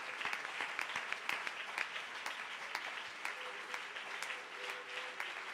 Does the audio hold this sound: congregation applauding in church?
yes